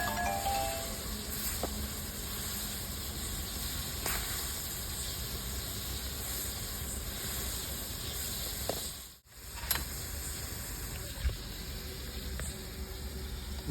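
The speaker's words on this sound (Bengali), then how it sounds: "ফুটতে লেগে গেছে। এবারে ফুটবে, গরম হয়ে গেছে।" A pot of water with cauliflower and egg coming to the boil, giving a steady, faint hiss and low bubbling rumble that runs on evenly, with a brief dip and a couple of soft knocks near the end.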